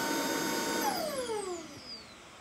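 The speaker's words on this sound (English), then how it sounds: "So I think this is a really good vacuum cleaner" A Shark IONflex DuoClean cordless vacuum cleaner whines loudly up close, then its motor pitch slides down as it powers off and spins down.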